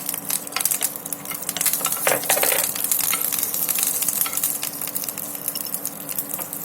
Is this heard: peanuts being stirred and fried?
yes